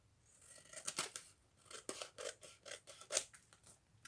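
Scissors cutting paper pages for a junk journal, a quick series of close, crisp snips in an otherwise quiet room.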